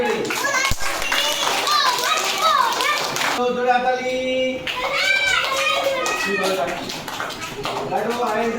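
Children clap together in a school classroom during a mock children's parliament, a dense patter of hand claps mixed with kids' voices and chatter, with a brief lull partway before the clapping and talk resume.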